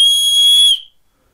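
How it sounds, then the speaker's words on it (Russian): An aluminium alloy keychain whistle is blown once, a loud, piercing steady tone lasting under a second before cutting off to silence. "Свисток из алюминиевого сплава."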